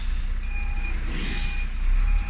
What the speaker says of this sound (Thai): เสียงรถ เสียงรถใหญ่กลัวนะเนี่ย